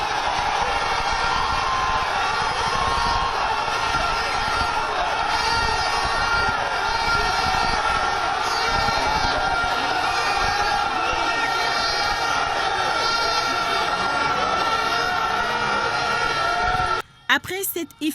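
A large joyful crowd cheers, whoops and shouts continuously as it greets a national hero along the route from the airport to Independence Square, with a dense roar of many voices and engine noise underneath, ending abruptly.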